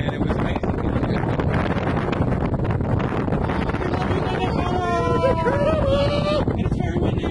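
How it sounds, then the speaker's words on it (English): Strong outdoor wind buffets the microphone with a constant loud roar, while voices talk over it and a high rising tone comes in near the end. "It is so windy."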